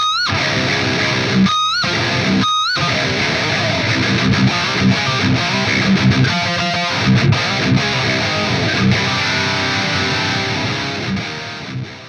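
Heavy, distorted electric guitar riffing on a Stratocaster tuned to drop C, with low, chunky chords and brief stops between phrases, loud and continuous with no voices.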